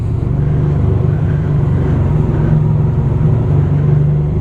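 A 2010 Honda VFR1200F DCT V4 motorcycle drones loud and close on a night ride, a steady low engine hum with a faint rise in pitch partway through.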